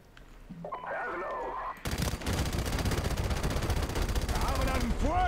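Rapid automatic gunfire from a Call of Duty 4: Modern Warfare Remastered battle on a hillside erupts loudly after a quieter opening with a spoken line and keeps crackling in sustained bursts alongside other game sounds.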